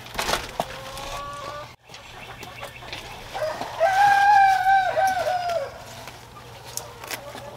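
Backyard chickens cluck and call in a garden, with one drawn-out clear squawk in the middle and softer clucks around it, amid rustling and light outdoor noise.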